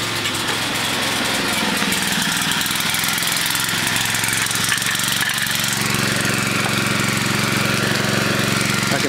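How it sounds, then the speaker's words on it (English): A homemade wood pellet gasifier fuels a generator that runs steadily throughout, giving a continuous loud engine drone with a constant low hum and no break. "It's running my generator"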